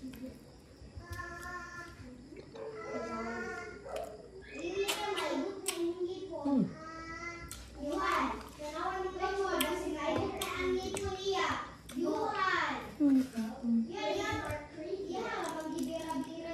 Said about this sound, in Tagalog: Background guys ng mga bata ang ingay.